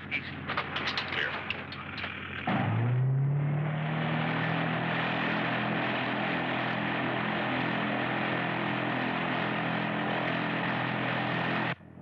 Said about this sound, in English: 609er, you are clear. Take off on runway 27R.